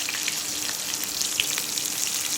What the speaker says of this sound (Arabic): زيت نباتي مع ملعقة سمنة مع شوية ملح عشان هنحمر الحمامات ومنقلين على الوجهين